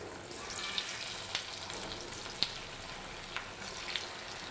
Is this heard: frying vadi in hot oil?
yes